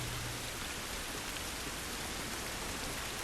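Steady rain in the game The Last of Us Remastered hisses evenly and densely throughout, a continuous wash of falling drops with no voices over it.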